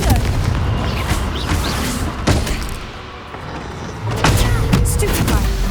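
A Confringo fire spell blasts off in Hogwarts Legacy, landing as loud booming thumps and bursts over a dense, busy wash of game noise, with a brief quieter lull midway before the roar swells again.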